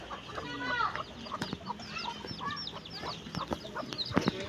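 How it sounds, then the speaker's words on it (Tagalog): Chicks chirp in a rapid, high-pitched chatter that fills the clip, close and continuous. Sharper clicks and rustles come from the surroundings out in the countryside. "Yun, mga sisiw, naririnig."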